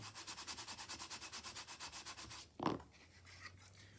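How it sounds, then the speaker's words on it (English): A paper card mounting is burnished by hand, a quiet rhythmic rubbing swishing back and forth about six times a second, then a brief louder scrape and soft handling noise. "I'm going to go ahead and give that a burnish."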